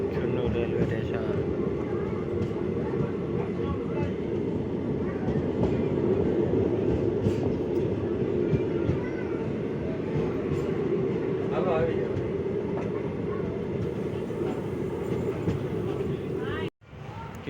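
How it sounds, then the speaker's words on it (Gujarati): A train pulls away from an old railway station with a continuous heavy rumble and rolling wheel noise that stays loud and steady. There is a brief sharp cut near the end. "ચિત્તેલેથી ટ્રેન ઉપડી ગઈ છે"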